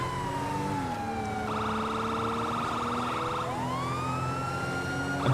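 A police car siren wails in GTA V Online, steady and fairly loud, its pitch gliding down, switching to a rapid pulsing yelp, then sweeping back up over a low engine drone, with no talking.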